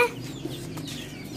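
Chicks cluck and peep close by as they are fed grain and chickpeas, with short soft calls scattered over a quiet background.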